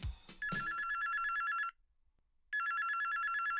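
A telephone in a director's office rings with an electronic trill, two long bursts separated by a pause of silence, loud and clear, with a short spoken noise just before the first ring.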